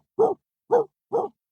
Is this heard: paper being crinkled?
no